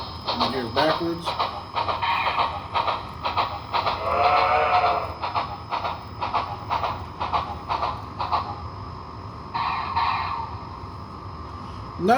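Model train sound decoder on an Intermountain Railway Southern Pacific 4-8-8-2 AC-12 cab forward steam locomotive running in reverse, giving rhythmic chuffs with whistle and bell-like tones, played steadily while a person talks over it.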